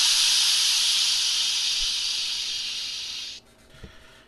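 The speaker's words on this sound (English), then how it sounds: "Then the animatronic starts pouring out super hot steam, which was blanketing the room in steamy fog." An animatronic in a Batman video game pours out super hot steam in a loud, steady hiss that runs for over three seconds and then cuts off abruptly, leaving a low rumble.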